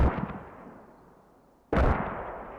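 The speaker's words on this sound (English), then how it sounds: "Mortar's landing close to Cloud Kicker, I think." Mortar shells landing in the military shooter game Squad: a heavy explosion fades into a long rumbling tail, then a second loud, sharp impact bursts in near the end, with no talking.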